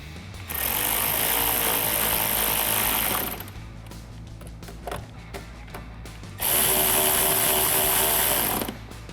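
A powered driver with a 7mm socket tightens the bolts on an upper grille replacement for a 2021-2022 Ford F-150, two loud sustained whirring bursts separated by a pause with small clicks and handling noises.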